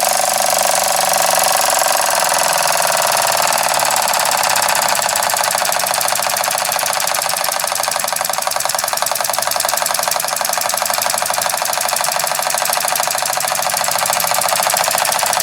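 A belt-driven dynamo loads a rusty model horizontal steam engine, which runs with a fast, steady mechanical knocking that stays loud and unbroken throughout, with no voices.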